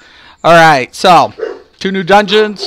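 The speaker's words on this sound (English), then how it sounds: "That's my dog." A pet dog barks and whines in a few loud, close bursts, mixed in with someone talking nearby.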